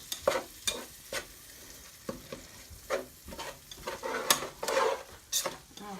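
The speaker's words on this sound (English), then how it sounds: "now we're going to take that corn and put it in there with that meat. Scrape it on in there" Fresh corn scraped into frying taco meat for taco soup, heard as irregular close scraping strokes of a utensil against the pan over a low, constant sizzle.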